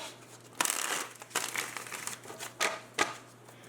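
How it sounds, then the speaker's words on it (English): Tarot cards pulled from a deck during a reading give several crisp shuffling and snapping bursts at close range, separated by quieter gaps over a faint steady hum. "I'm going to pull out your cards for your person, pull out cards for you."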